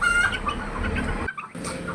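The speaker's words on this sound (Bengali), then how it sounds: "একদম পিওর দেশি মুরগির বাচ্চা এটা" Native desi chickens and their chicks cluck steadily and close by, with a brief quiet gap near the end before the clucking resumes.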